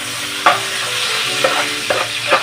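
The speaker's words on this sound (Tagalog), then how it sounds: "i-gisize yung ating onions and garlic. Then, once brownish na siya, guys, saka natin isunod ang ating tomatoes." Onions, garlic and tomatoes sauté in a pan with a steady, loud sizzle, punctuated by a few scraping stirs of the utensil, close up and without any voices.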